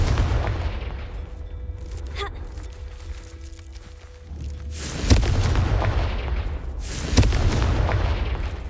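A Confringo fire spell goes off in a Hogwarts Legacy-style video game, with two heavy booming blasts ringing out over a rumbling background of in-game activity.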